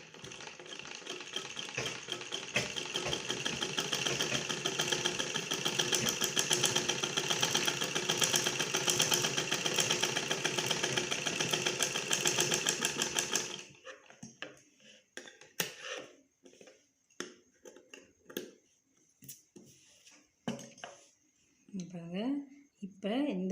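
A sewing machine stitches cloth layers together during a basic tailoring lesson, a dense steady mechanical whir for about fourteen seconds, then stopping as scattered handling clicks and a woman's speech follow.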